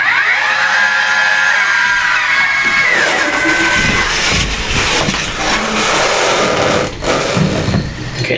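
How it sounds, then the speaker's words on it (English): A telescope's drive motor slews the scope over toward the moon, giving a steady mechanical whir that rises and falls in pitch, fairly loud and continuous for several seconds with no talk. "that's the sound of the telescope slewing over to the moon"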